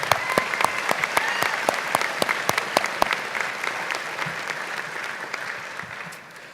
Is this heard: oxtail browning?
no